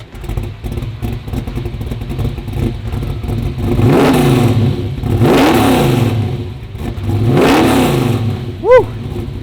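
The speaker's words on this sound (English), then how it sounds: "let's see how this 468 cubic inch GM Big Block sounds" A 1970 Chevrolet Nova SS with a 468 cubic inch GM big block engine idles with a rough, lumpy rumble, then roars through three loud revs that climb and fall, close by, ending in a short squeaky chirp.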